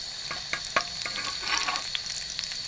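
Bread kabab tikkis sizzle and crackle in hot oil, with a steady frying hiss punctuated by sharp pops and spatters, close and continuous.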